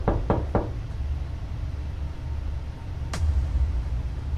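Three sharp knocks on a door in a Roblox horror game, spaced close together at the start, then a single louder knock after a pause, with a low steady hum underneath.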